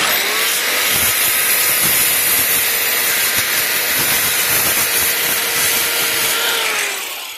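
Continuous rasping cut through a piece being trimmed to size by hand, steady and close for several seconds with a hissy, sawing texture and no talk.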